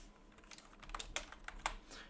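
Keys on a computer keyboard are tapped in a short quiet burst of about a dozen clicks, speeding up toward the end, close and soft in a quiet room.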